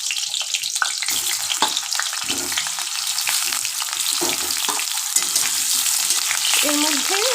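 Boiled potatoes fry lightly in oil in a pan, a bright continuous sizzle with intermittent stirring and scraping strokes close by and no voices.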